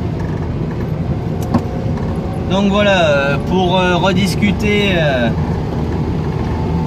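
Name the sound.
Citroën 2CV car engine while driving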